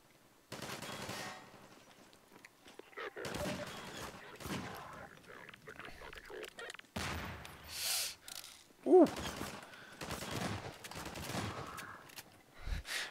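Shotgun blasts and other gunfire ring out in Half-Life 2, arriving in scattered loud bursts amid game combat noise, with a voice speaking now and then.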